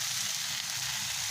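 Water poured into a frying vegetable curry, a continuous loud hiss and crackle of sizzling from the pan, steady and close with no voices.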